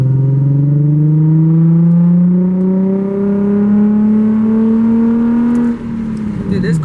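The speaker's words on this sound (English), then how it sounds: "Dude, this car is loud for no reason." A loud car engine in a manual car pulls hard, its droning tone climbing steadily for several seconds, then drops suddenly as if shifting gear, close and dominant throughout.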